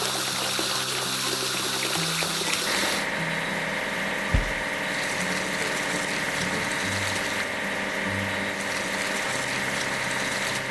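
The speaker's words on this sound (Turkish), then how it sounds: "Kasalı vinci yıkamamız gerek." Running water hisses steadily through a children's train station video game as the crane is washed, with a low mechanical hum, light synthesized music and a single soft thump partway through.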